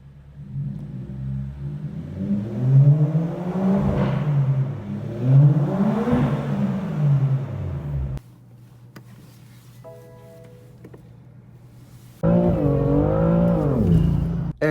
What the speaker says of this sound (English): the car sounded so much better with the downpipe